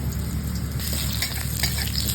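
Potatoes frying in oil for Bengali sukto, a close, dense and continuous sizzle with a few light scrapes of stirring over the top, with no voices.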